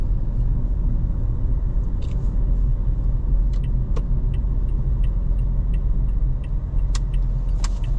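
A car drives along a main road in Hua Hin, Thailand, its steady engine and road rumble filling the cabin, with faint light jingles and clicks over the continuous drone.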